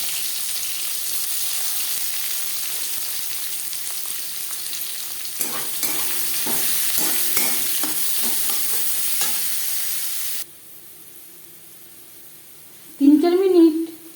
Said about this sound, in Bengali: পনেরো কুড়ি সেকেন্ড পাঁচ ফোড়ন ভেজে নেওয়ার পর দিয়ে দেবো পেঁয়াজ কুচি